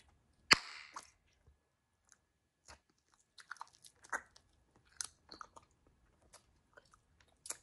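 Bubble gum being chewed close up, with one sharp snap or crunch near the start followed by scattered soft, wet chewing clicks and smacks at an irregular pace in a quiet room.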